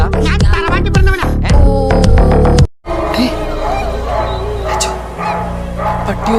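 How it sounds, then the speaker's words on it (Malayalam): A dog barks and howls in loud, repeated bursts during the first few seconds, then the scene turns into a busier, noisier stretch with fainter sounds continuing underneath. "പട്ടി ഓരിയിടുന്ന ശബ്ദം കേട്ട നീ?"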